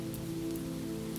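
Rain falls on a forest path, a soft steady patter of drops on the surface with a faint low hum beneath it, quiet and continuous.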